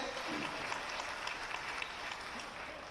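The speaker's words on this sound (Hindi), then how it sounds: "तालियां बजा के उनका स्वागत कीजिए।" A crowd at a political rally in India applauds to welcome a speaker: dense, steady clapping from many hands that holds at an even level throughout.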